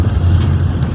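A car moves slowly along a narrow, winding road on the way to a scenic viewpoint, giving a brief, steady low engine rumble with some wind buffeting.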